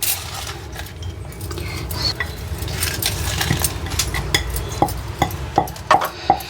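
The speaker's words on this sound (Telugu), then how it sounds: "అట్లా చిన్నగా దిగి అది నేను అల్లం వెల్లిపాయ నూరుతా." Ginger and garlic being crushed by hand in a Telangana home kitchen, a series of sharp knocks and scrapes that grow louder and more distinct toward the end, over a low background murmur.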